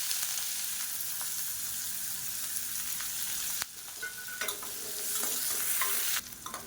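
Chopped onions sizzle steadily in hot oil with mustard seeds, curry leaves and urad dal. A spoon stirs them, scraping and clinking against the pan now and then, and the frying stays close and continuous throughout.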